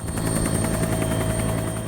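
A helicopter flying over the remote Greenland landscape produces a continuous loud engine drone with rapid rhythmic rotor chop, heard close and steady throughout.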